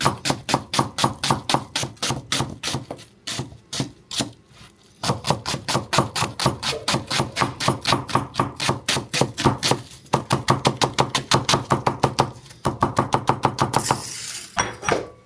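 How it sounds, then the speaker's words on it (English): Onions chopped rapidly with a knife on a cutting board during a homestead harvest, fast close rhythmic chopping in long runs broken by short pauses. "He's going to chop the onions because he is a much faster Chopist."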